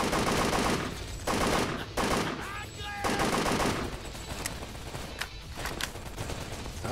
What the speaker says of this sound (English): they somehow survived that wall of machine gun fire